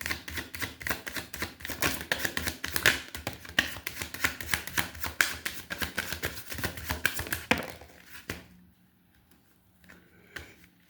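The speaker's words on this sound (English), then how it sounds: "Another shuffle." Tarot cards are shuffled by hand in rapid, crisp riffling bursts for several seconds, then the shuffling stops and only a few faint taps follow in near silence.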